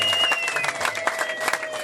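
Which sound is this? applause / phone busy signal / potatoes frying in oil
applause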